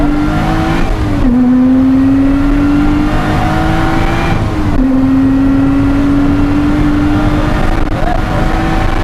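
A race car on track at Knockhill circuit, heard from on board: a loud, steady engine roar that drops briefly as the driver lifts, then climbs again in rising pitch, twice over, with faint talk underneath.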